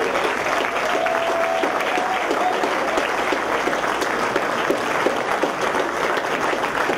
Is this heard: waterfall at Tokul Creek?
no